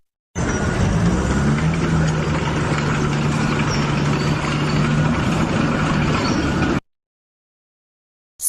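A dump truck engine rumbles steadily at a low idle, loud and close, with a faint tonal hum running through it, for several seconds before cutting off.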